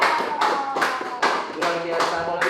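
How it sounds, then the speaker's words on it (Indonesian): A small group claps at a street gathering of cosplayers in Jakarta's Sudirman pedestrian area. The clapping comes in short, uneven bursts of several seconds, close and moderately loud, with voices talking over it. "tepuk tangan dong"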